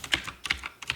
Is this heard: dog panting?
no